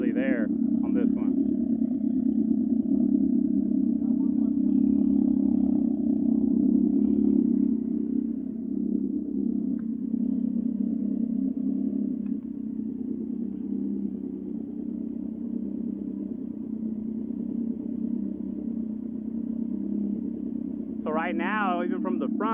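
Can-Am Ryker three-wheel motorcycles idling side by side, one a 900 with a Stealth series exhaust and one a 600 with a Carbon series exhaust, giving a steady low rumbling drone throughout, with people talking over it.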